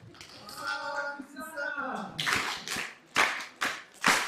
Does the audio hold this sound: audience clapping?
yes